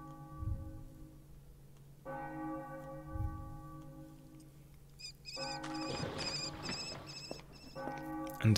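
A bell rings with sustained, layered metallic tones in the Enigmatis: The Ghosts of Maple Creek game, starting low and swelling into brighter overlapping peals over a quiet ambient bed.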